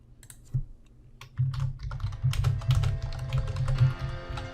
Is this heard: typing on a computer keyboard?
yes